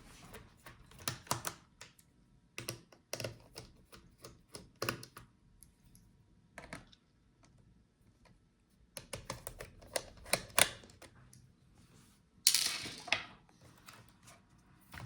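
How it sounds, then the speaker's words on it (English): Small metallic clicks and ticks from a screwdriver working screws out of a Dell Precision 3560 laptop, close and faint, coming in scattered clusters separated by quiet gaps, with one sharper scrape late on. "Now unscrew all the screws."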